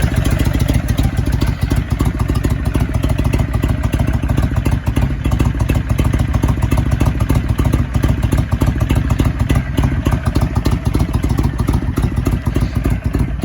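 A 2005 Honda VTX1300R V-twin idles after a cold start, a loud, close, steady lumpy rumble with a rapid uneven clatter that holds for the whole stretch without revving.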